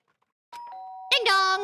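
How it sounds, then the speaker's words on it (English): A doorbell rings in the Danganronpa video game: a clean electronic chime holds a steady tone, then a louder, brighter second note rings out, close and isolated against silence. "did I hear the doorbell?"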